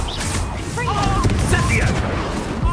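Spell explosions from the Confringo spell in the game Hogwarts Legacy, a dense run of booming blasts and crackling bursts under a shouting voice.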